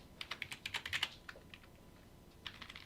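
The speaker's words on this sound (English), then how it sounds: "So let's type fetch" Quick bursts of keystrokes on a computer keyboard while JavaScript code is entered, a dense flurry of clicks followed by a pause and then a shorter run of taps, fairly quiet and close.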